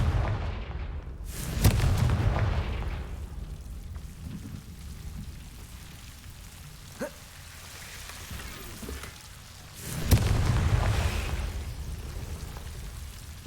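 Confringo fire spell blasts in Hogwarts Legacy, two loud booming explosive impacts several seconds apart, each trailing into a crackling, rain-like rumble, with a small pop between them and no speech.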